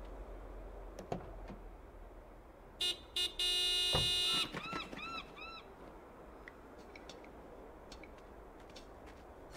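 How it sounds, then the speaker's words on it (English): A vehicle horn in the Broken Sword 5 adventure game honks in a few short blasts and one longer held blast, loud against quiet ambient noise, with faint bird-like chirps afterward. "Nico, could you honk the horn again?"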